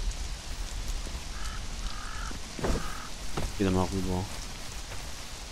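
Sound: rain in the video game Conan Exiles

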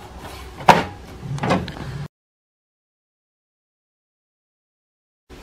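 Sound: HP Smart Tank printer front door closing

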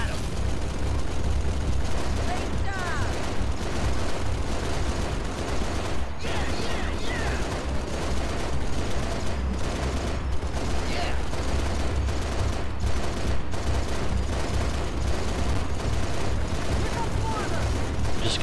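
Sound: turret gunfire in the video game Halo Reach

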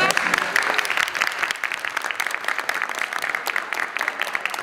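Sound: applause at end of lecture

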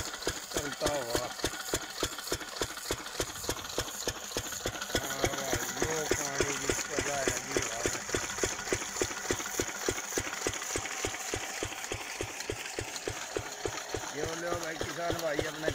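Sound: 8 HP engine running, watering a field

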